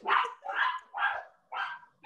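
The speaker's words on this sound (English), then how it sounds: "Someone just came to our door and my dogs are going crazy." Dogs barking at someone arriving at a house door, four loud, close barks in a steady rhythm with short gaps between them and no talking.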